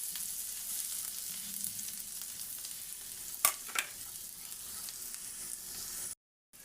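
Garlic sizzles steadily in a hot pan, close and continuous, with a couple of sharp utensil taps midway before the sound cuts off abruptly near the end.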